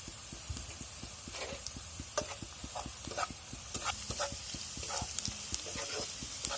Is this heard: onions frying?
yes